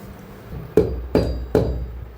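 Raw mangoes being chopped for mango pickle, three sharp, close knocks of a blade striking through fruit onto a hard board, evenly spaced within about a second, with no talk.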